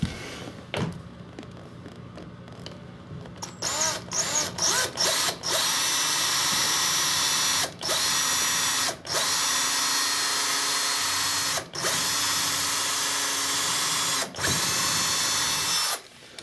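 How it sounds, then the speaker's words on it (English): Power drill bores a pilot hole for a doorstop, starting with short trigger bursts, then running in long sustained whines broken by brief pauses, close and loud with no speech. "we'll take our handy dandy drill and drill ourselves a little bit of a pilot hole"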